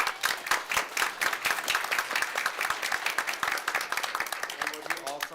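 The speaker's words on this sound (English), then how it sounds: "So if we could give her a round of applause." An audience at a Cuyahoga Falls City Schools board meeting gives a round of applause: brisk, fairly close clapping from a modest crowd that keeps going, then tapers as a voice comes in near the end.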